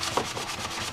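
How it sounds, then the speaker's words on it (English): Hand sanding with 220 grit sandpaper on an FZR motorcycle part during restoration, a close, steady rasping rub in quick repeated back-and-forth strokes, with no talk. "Now I'm starting off with some 220 grit rough."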